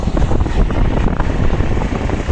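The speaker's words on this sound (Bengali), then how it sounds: "আজকে অনেক বাতাস, ভালো লাগছে, খুব সুন্দর।" Strong wind buffets the microphone beside the Shitalakshya river at Demra bridge, a loud, rough, constant low rumble with gusty surges and no speech.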